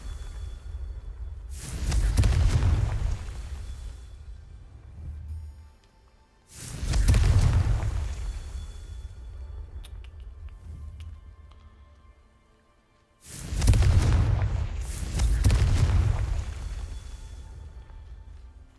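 The Confringo fire spell explodes in the video game Hogwarts Legacy: three loud booming blasts, each followed by a rumbling tail that fades over several seconds.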